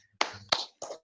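A few quick hand claps from a Tepuk PPK clapping routine, three short sharp bursts close by in a quick rhythm, no talk.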